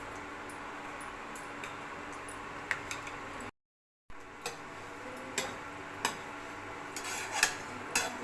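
A utensil scrapes and taps against a pan while goat blood fry is stirred and mixed, giving irregular light clicks over a low cooking hiss, with one brief silent gap midway.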